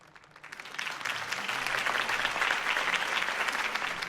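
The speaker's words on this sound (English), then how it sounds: "If only Mr. Wayne, my campaign's largest backer, could have heard that applause" Crowd applause in the Telltale Batman video game follows a campaign speech, a broad wash of clapping that swells in over the first half second and holds steady and dense to the end.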